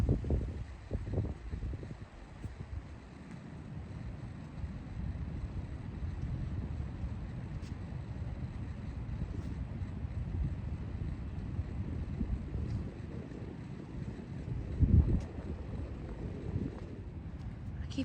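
Cold wind gusting across a grassy trout pond, a low rumbling buffet on the microphone that runs steadily throughout with a sharper gust near the end.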